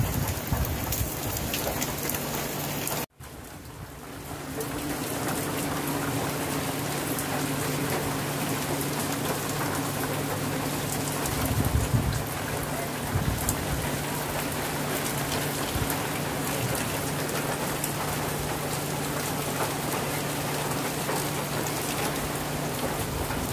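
Heavy typhoon rain pounds down steadily on surfaces outdoors, a dense continuous roar with a low rumbling undertone, broken only by one brief cut near the start before resuming at full strength.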